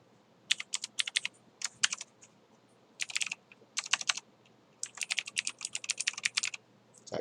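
A computer keyboard clatters in quick bursts of typed keystrokes, close and fairly quiet, separated by short pauses as a new folder name is entered.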